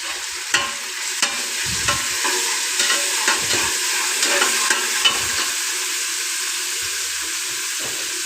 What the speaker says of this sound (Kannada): ಚೆನ್ನಾಗಿ ಮಿಕ್ಸ್ ಮಾಡ್ತಿದ್ದೀವಿ.